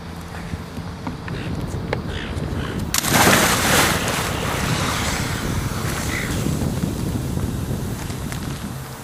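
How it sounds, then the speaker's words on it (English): A person wearing an inflatable SOLAS-approved Sea Pilot life jacket jumps into the sea with a loud splash, then water churns and wind buffets the microphone steadily afterward. "So, without further ado, I'm going to jump in."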